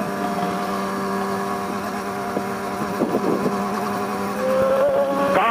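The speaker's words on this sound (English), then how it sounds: "Car." A car passes close by a group of motorcycle riders, its engine note rising and swelling against the steady hum of the bikes' own engines, with a louder surge near the end.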